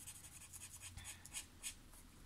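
A Twinmaker marker from Action colouring lightly on paper, soft quiet scratchy strokes repeating in short bursts, close and alone.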